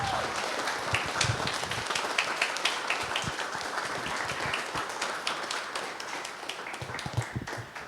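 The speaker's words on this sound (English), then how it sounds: "So let's give a big round of applause," Audience applause at a national survey breakfast event, steady moderate clapping from a room of guests lasting about eight seconds, with individual claps standing out over the mass.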